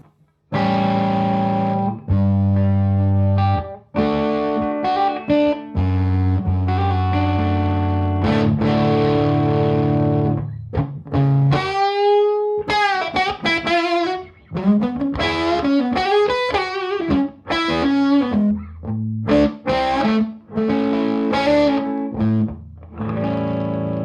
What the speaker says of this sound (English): So this is the sound of the Suhr Hombre by itself.